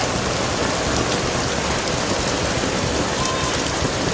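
Heavy rain pours down in a dense, steady hiss of drops hammering surfaces, loud and close, continuous throughout with no voices.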